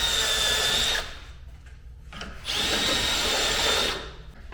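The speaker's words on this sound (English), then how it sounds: "The handy dandy step drill." Step drill boring holes in metal brackets in a race car fabrication shop, two loud whining bursts of about a second each separated by a short pause.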